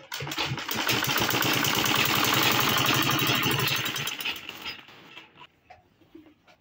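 A sewing machine top stitches a tote bag, its needle motor whirring in a fast steady run for about four seconds before stopping, followed by faint handling sounds.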